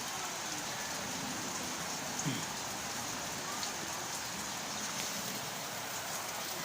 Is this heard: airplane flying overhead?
no